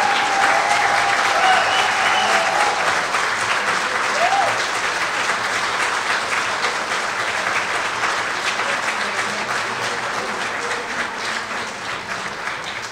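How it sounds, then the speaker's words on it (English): Sustained applause from an audience at a USS Orleck DD 886 navy ship reunion's opening night in San Diego, a thick, even roar of clapping that stays strong and slowly eases over its length. "Let's give them a round of applause."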